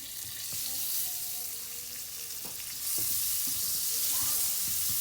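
Butter sizzles and crackles as it goes into a hot soup pot, a steady close frying hiss that grows louder partway through, with a few light clinks of a utensil.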